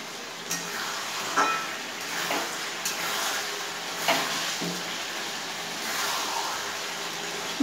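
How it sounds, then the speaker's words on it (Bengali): Spice-marinated meat frying in a pan gives a steady broad sizzle, with a few soft scrapes and knocks at irregular intervals as it is stirred, heard alone and fairly close. "মশলার সঙ্গে ম্যারিনেট করে রাখা মাংসগুলো আমি খুব ভালো করে কষিয়ে নিচ্ছি।"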